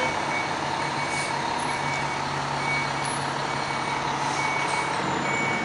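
Montreal fire trucks responding in the street, a steady truck engine drone with a faint, regular reversing beep repeating over it, a little distant.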